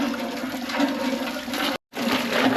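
Water from a hand pump pours steadily over freshly caught crabs, a loud close rushing splash that cuts out for a moment and then resumes.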